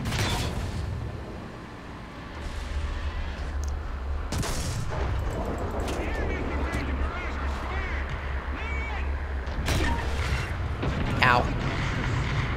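A heavy tank cannon round fires in a tank battle game, with the Maus heavy tank involved, as a loud broadband boom over a constant engine rumble, with someone talking over it.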